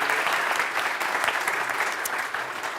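Audience at a European hydrogen forum applauding speakers after a session, dense steady clapping from many hands, fairly close, tapering slightly over a few seconds with no talk.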